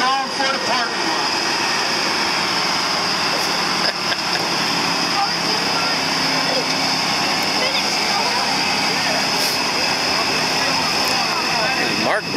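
A 13,500-pound pulling tractor drags a 54,000-pound sled with spikes and pan down at a tractor pull, its engine roaring steadily and loudly for the whole stretch, a continuous high whining drone with a voice talking over it.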